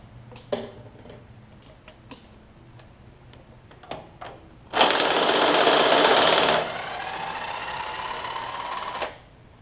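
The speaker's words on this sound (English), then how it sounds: "I have the big impact because a small impact probably wouldn't break them loose" A big impact wrench works rusted cylinder head bolts loose on a Craftsman grey opposed-twin riding mower: a few sharp metallic clicks, then a loud roughly two-second hammering burst, followed by a lighter, steady whirring run that stops.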